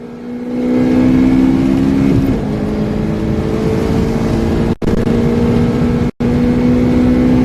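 An 8th-generation Honda Civic Si accelerating hard on a quarter-mile run: a loud, continuous engine drone climbing in pitch, broken by two brief cuts that sound like gear shifts.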